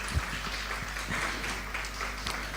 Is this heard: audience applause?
yes